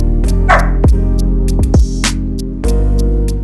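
A young, energetic six-month-old pet dog at home gives several sharp barks and yips in quick succession, close and loud, with short gaps between them and no talking.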